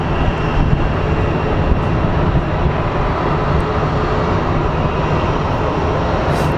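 Boeing 777 airliner at Phoenix Sky Harbor, a continuous, fairly loud jet engine rumble with little change in level, heard alone without talk.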